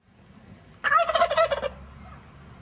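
A wild turkey gobbles once, a loud rattling burst about a second long that rises abruptly out of quiet outdoor background and then fades back to stillness.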